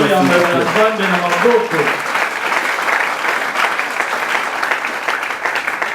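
A church congregation bursts into sustained applause, broad and steady, following a brief moment of a preacher's voice at the start.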